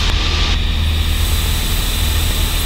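A Cessna 172N light aircraft engine droning in flight, a loud steady propeller hum with a constant low throb filling the cabin, no talk over it.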